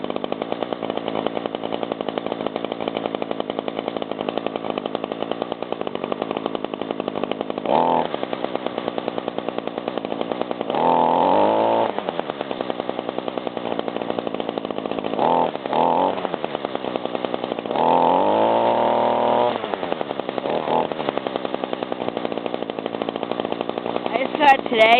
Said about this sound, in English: It's an awesome weed whacker and stuff.